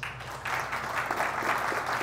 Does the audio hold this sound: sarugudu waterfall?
no